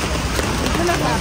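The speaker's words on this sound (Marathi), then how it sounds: "पाऊस पडते." Rain falling steadily, a dense broadband patter close by, with a voice speaking briefly over it.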